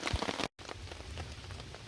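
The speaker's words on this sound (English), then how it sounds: "Sitting under a tarp in the rain." Rain patters steadily on a tarp sheltering hikers on Allen Mountain in the Adirondack High Peaks, a dense, close hiss of drops with a brief dropout partway through.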